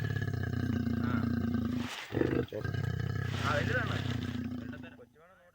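A trapped leopard roars inside a cage, several loud, sustained roars close by with brief breaks, ending abruptly in a short quieter stretch.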